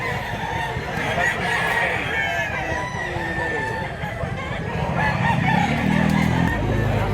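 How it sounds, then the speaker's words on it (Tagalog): Chickens and a roosting cock around a one-year-old bullstag rooster cluck and crow nearby at a Cebu market, with people talking over the birds throughout. "Gandang manok."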